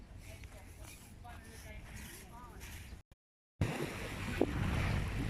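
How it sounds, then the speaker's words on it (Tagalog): Strong waves at Corniche Beach surge and wash against the shore amid wind buffeting the microphone, with a short dropout in the middle and people talking nearby. "Ayan, lakas na ng tubig ng alon."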